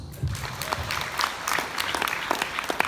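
Audience applause at a business convention talk, a steady wash of many hands clapping at moderate level, with scattered louder claps and a faint crowd murmur beneath.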